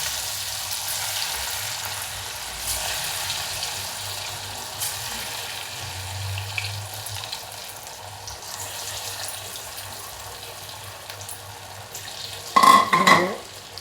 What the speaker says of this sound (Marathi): आता मी असे सगळे तळून घेते